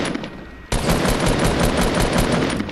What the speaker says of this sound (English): I took the assault rifle.